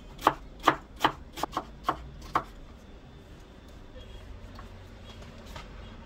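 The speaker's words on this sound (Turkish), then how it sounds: "Bir adet kuru soğanı ince ince yarım ay şeklinde doğrayalım" Six or seven crisp knife strikes slicing a dry onion into thin half-moons on a cutting board in a quick steady rhythm, then quiet room tone.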